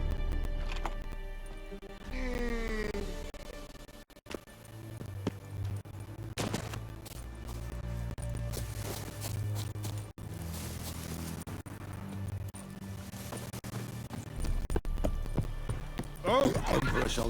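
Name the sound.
horse (Roach) galloping, from the video game The Witcher 3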